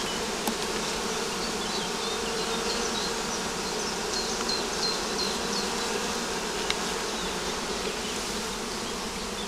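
Dense, steady buzzing of many honeybees close by at a hive, a continuous swarm hum with no voices.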